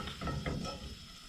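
Wooden spoon scraping and stirring a tablespoon of melting butter around a pan still used from cooking potatoes, a quiet close scrape with soft sizzling, no one talking.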